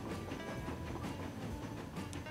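A train rolls along the track in the Transport Fever video game, a steady rumbling run with rhythmic clickety-clack beats from the wheels.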